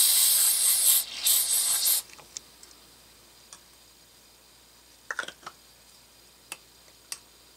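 A spray can of Breakfree CLP lubricant hisses onto gunpowder-burned metal in two or three short bursts, followed by a few faint clicks and light taps in otherwise quiet surroundings.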